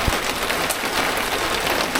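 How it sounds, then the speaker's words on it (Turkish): Steady rain patters densely on a surface, a constant hiss of drops with occasional louder taps, no voices. "yağmur başladı"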